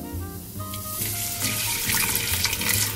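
Chicken broth poured slowly from a container into a pot of soup, a steady close splashing and trickling stream that runs continuously and grows slightly busier, with no talk over it.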